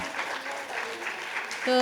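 Audience applause at the Aakhar Uttar Pradesh Festival's Awadhi poetry session, a brief burst of many hands clapping with a voice speaking over it toward the end.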